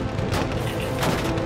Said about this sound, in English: People shooting me.